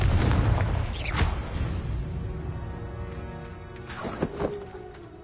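Confringo explosive spell in a wizard video game, a loud blast at the start that rolls off, then a couple of sharper bursts later, with fading rumble between them and no voices.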